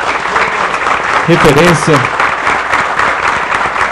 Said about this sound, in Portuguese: Uma salva de palmas para o irmão Pedrão.